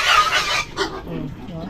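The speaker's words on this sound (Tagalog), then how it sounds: "ang daming mga manok." Chickens squawk and cluck in a noisy cluster, fairly close, with overlapping calls and a busy background.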